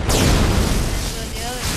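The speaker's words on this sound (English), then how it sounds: "Pull out a rocket launcher, keyword rocket launcher, and blow the last one he spawned up to smithereen." Rocket launcher explosion blowing up a vehicle in the Halo 3 video game, one heavy, loud, close boom with a rumbling tail that fills the whole short moment.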